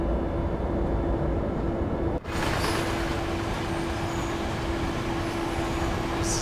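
A Siemens Vectron electric locomotive in the Train Sim World 4 game hums steadily with a constant whine and broad rumble, with a brief dropout partway through and no talking.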